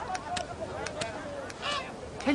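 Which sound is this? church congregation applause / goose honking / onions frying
goose honking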